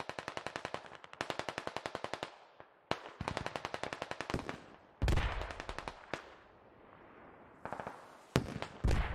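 Machine guns fire in the military shooter Squad: repeated rapid bursts of sharp, loud shots, some stopping abruptly and others running into a sustained heavy roar, with brief gaps between volleys.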